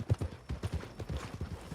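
Horse hooves clip-clop steadily at a walking pace in Red Dead Redemption 2, a near, even run of soft thuds on the ground with no voices over them.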